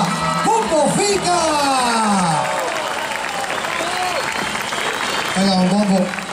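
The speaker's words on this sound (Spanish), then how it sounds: "El aplauso fuerte, sincero y cariñoso de Río Bueno para Pupo Fica!" Audience applause and cheering at an outdoor summer show in Río Bueno, a steady crowd wash lasting the whole stretch, with a presenter's voice talking loudly over it.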